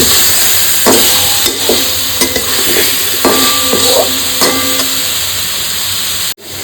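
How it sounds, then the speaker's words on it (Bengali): Boiled eggs stir-fried in a spice masala, loud close sizzling and hissing with repeated scraping stirs and metallic spatula clicks, ending abruptly. "ডিমগুলো নিয়ে ভালো করে এবার একটু কষাবো"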